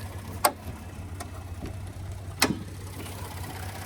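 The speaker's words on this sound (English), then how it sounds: "There's the engine. The clicking is normal. It's direct injection." A 2016 Lincoln Navigator L's direct-injection engine idles with a steady low hum, and faint ticking clicks run through it. Two sharper clicks stand out, recorded near the engine bay with no talking.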